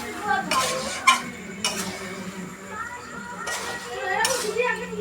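Meat is stirred and sautéed in a pot, bringing several sharp metal scrapes and clinks of a spoon against the pot over a low hiss, with speech and children's voices faintly in the background.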